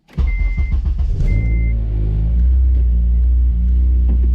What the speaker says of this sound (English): Let's see if the car starts up first of all.